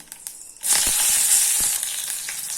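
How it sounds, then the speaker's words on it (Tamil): Mustard seeds, curry leaves and slit green chillies hitting hot oil, bursting into a loud, close, sustained sizzle with a few crackles and pops after a brief quiet moment, no talk. "கால் டீஸ்பூன் கடுகு போட்டுக்கலாம் அடுத்தது ஒரு இனுக்கு கருகப்பிலை போட்டுக்கலாம் கீரி வச்சிருக்கிற ரெண்டு பச்சை மிளகாய் போட்டுக்கலாம்"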